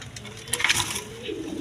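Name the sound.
Lahori pigeons cooing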